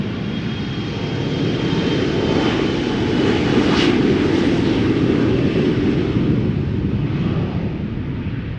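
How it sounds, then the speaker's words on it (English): KLM passenger jet taking off at Amsterdam Schiphol Airport, a loud broadband engine roar that swells toward the middle and then slowly eases, heard alone without voices. "You already heard that there's an airplane taking off right here."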